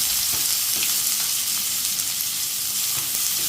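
Onions, about four, sauté in hot oil for a fried prawn gravy, giving a steady, dense sizzle with faint stirring scrapes throughout. No one speaks.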